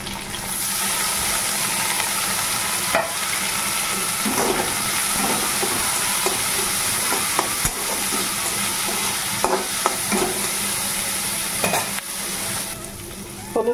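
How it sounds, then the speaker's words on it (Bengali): Dried kachki fish sizzle and crackle steadily in a hot wok with onion and green chili, a loud continuous frying hiss broken by the scrape and clatter of stirring. "কড়াইতে কাঁচা লঙ্কা পেঁয়াজ দিয়ে দিয়েছি, এবারে মাছগুলো দিয়ে দিচ্ছি।"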